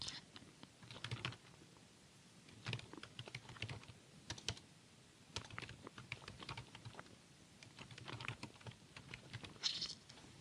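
Close keyboard typing as accounting data is entered on a computer, bursts of quick soft clicks and taps separated by short pauses, faint and alone without speech.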